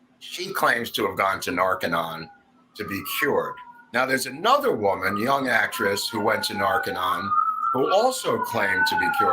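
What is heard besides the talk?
ambulance siren passing by outside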